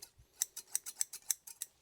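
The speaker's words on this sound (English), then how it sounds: "Couple of pairs of scissors. 1, 2, rustless, chrome plated, solid steel." A pair of rustless, chrome-plated solid steel scissors snips open and shut about ten times in quick succession, crisp metallic clicks close up in a quiet room.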